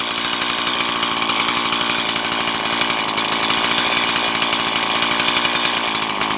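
A Stihl MS170 chainsaw idles at about 3,500 RPM, a loud, close, steady buzzing two-stroke drone with a fast even pulse and no talking.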